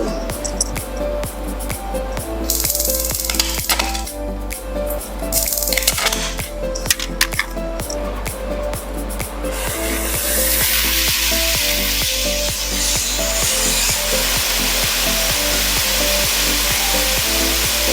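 An oxyhydrogen generator powered up to 0.1 megapascal and its flame ignited: crackling and clicking over a steady machine hum, then a loud continuous roaring hiss as the flame burns.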